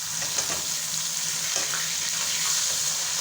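Three finely chopped onions sizzle in a pan for egg masala, a steady close frying hiss throughout with no talking.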